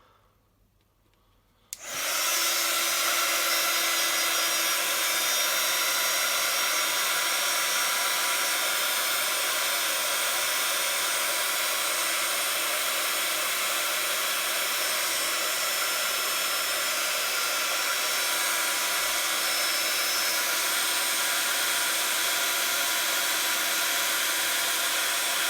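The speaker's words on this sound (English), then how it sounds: "I'm going to quickly blast this with my heat tool" An embossing heat tool blasts hot air onto a stamped card, starting abruptly after a quiet moment and then roaring as a loud, steady whooshing hum for the rest of the clip.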